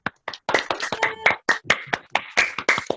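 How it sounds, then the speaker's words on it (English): Scattered hand clapping from a small group greeting Fireman Josh at a Special Kids Connect gathering, uneven claps building into a short, close round of applause with no talking. "Can everybody give Fireman Josh a big round of"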